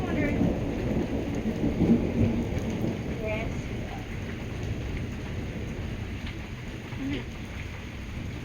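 Heavy thunderstorm with thunder rumbling over steady, dense rainfall, loudest early on and continuing evenly throughout; a person briefly murmurs a short reply.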